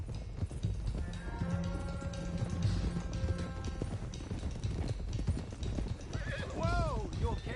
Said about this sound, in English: let's get these horses to Clemens Cove, quick, before we run into any more trouble.